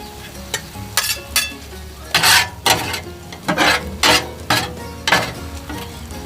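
Steak and peppers on a Blackstone griddle, a continuous close sizzle punctuated by repeated scraping strokes of a metal spatula in an uneven rhythm, with no talking.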